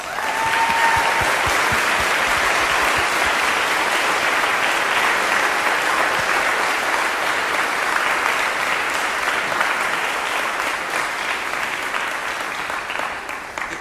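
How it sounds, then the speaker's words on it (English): Sustained audience applause at a church sermon fills the whole stretch, loud and steady with dense clapping that eases only slightly toward the end. "Give them a round of applause."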